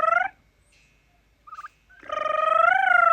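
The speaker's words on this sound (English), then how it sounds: "These turkeys" Turkeys gobbling on a small farm: a short call at the start, a brief bubbling note midway, then a long, loud gobble that rises and holds to the end, close by with no talking.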